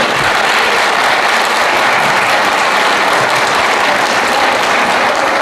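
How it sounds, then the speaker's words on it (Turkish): Loud, dense applause from a packed hall audience at a community education centre's classical Turkish music event, a continuous wash of clapping without a break. "en büyük alkış sizlere."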